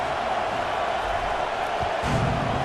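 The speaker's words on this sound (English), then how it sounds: "this crowd is buzzing after that last score" Stadium crowd noise in the College Football 26 video game during a Vanderbilt vs Texas game, a dense continuous roar of many voices holding steady and loud for the whole stretch with a slight swell near the end.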